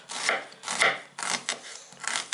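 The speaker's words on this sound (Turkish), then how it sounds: "Sebzelerimizi doğrayacağız." A knife chopping onion, carrot and parsley on a board for chicken vermicelli soup: several close, crisp bursts of rapid cutting with short pauses between them and no talk.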